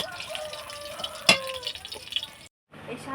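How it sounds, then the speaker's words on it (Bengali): Water splashes and trickles while pumpkin greens are washed in a home kitchen, a steady close wet rush with one sharp clatter partway through, then a brief silence before the water resumes. "এই শাকগুলো না এবার একটু ভালো করে ধুয়ে নিই"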